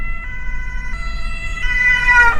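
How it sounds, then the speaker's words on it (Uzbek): An ambulance siren on a German road sounds loud and close, its tones stepping and changing as the emergency vehicle passes, over a low hum of traffic. "Tez yordam o'tib ketdi."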